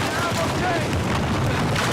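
Gunfire in the action video game Uncharted 4, a steady wash of shots and booms coming from ahead, with a voice talking over the game sounds.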